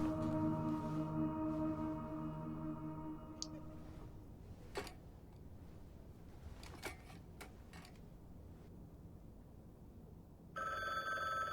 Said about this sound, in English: Of course my phone is ringing.